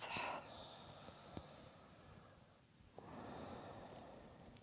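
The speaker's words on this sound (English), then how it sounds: "Deep breaths." Deep yoga breathing during gentle neck stretches: a sharp close nasal inhale at the start, a quiet pause, then a long, soft, airy breath.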